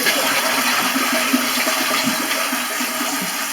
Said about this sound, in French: Alors si je tire la chasse d'eau,